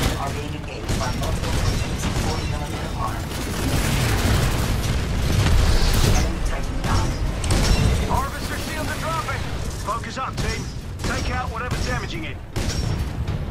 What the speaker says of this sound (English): Oh, the missiles.